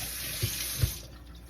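Tap water runs steadily into a kitchen sink as fresh thyme is rinsed under it, a continuous hissing stream with two soft splashes or bumps at moderate volume and no talking.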